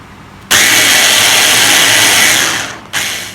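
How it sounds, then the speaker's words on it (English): A small blender whirring through a lime juice mixture starts abruptly with a loud, steady high-pitched roar that winds down, then kicks on again for a short second burst. "Since I have a rather small blender, we'll do this in batches."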